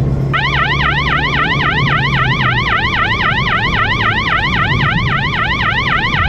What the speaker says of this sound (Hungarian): De végre egy sziréna, amit lehet hallani.